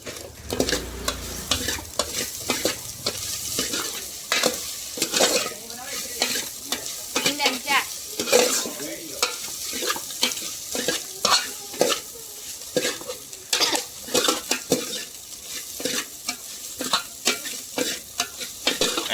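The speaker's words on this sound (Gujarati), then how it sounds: "હવે પછી આપણે હલાવવાનું છે." Egg dish with chili being stirred in a cooking pan, repeated close scraping strokes of a spoon in an irregular rhythm over a constant sizzle.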